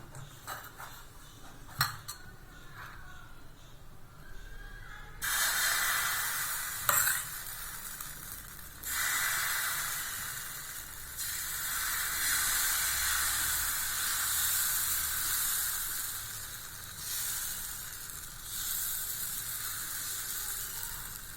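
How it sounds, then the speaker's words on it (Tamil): Dosa batter poured onto a hot pan sizzles and hisses steadily, a loud close frying crackle that swells in bursts and keeps going without any talk. "வாங்க, இப்போ தோசை ஊற்றிடலாம்."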